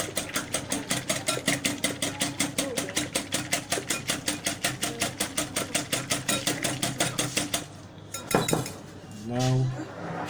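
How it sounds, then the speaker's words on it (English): Eggs are whisked briskly in a bowl for a cake baked on a charcoal stove, giving a fast, even run of clinking metal strokes that stops near the end, followed by a few brief clanks. "Then you whisk the eggs. So you whisk them well."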